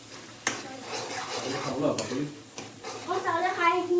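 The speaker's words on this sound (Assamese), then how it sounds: "মই এতিয়া ঢাকনখন খুলি লৰাই দিছোঁ" A pot lid clatters open, then a spoon stirs boiling fish belly for a rice pulao, with sharp metallic clicks and soft scraping under someone speaking nearby.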